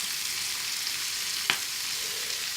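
Vegetables fry with ginger and garlic in a pan, giving a steady, close sizzle with one brief knock from a utensil partway through.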